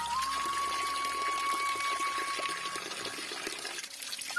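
Cold water streaming from a mountain spring in a forest, a close, continuous splashing gush pouring steadily with a faint thin tone running through it, with no talk over it.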